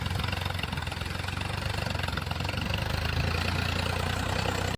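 A tractor engine idles nearby with a steady, rhythmic diesel chug and knock, loud and unchanging until it cuts off abruptly at the end.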